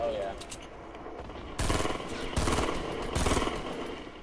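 Rapid bursts of gunfire ring out in a Fortnite match. Dense rattling volleys fill most of the moment, with brief pauses between them, and a player's voice is audible faintly at times.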